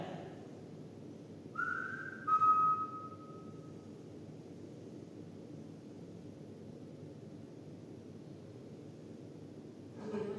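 A single clear whistle rings out at Bolton Castle, faint and distant, held briefly before sliding lower, then quiet background hum.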